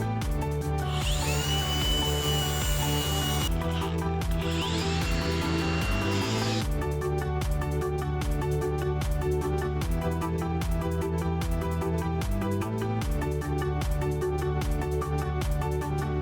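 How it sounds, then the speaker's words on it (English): Power grinder working over old spot welds on the rusty body of a 20-year-old Subaru Impreza WRX, a loud, steady whine that rises into two long screeching bursts, with rhythmic rattling pulses throughout. "I just decided to do some more grinding because this edge right here has so much of this old spot welding"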